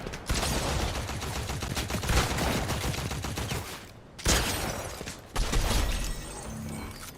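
Rapid pistol fire in Fortnite, a dense run of loud gunshots for about four seconds, then a brief pause and two more shorter bursts of shooting.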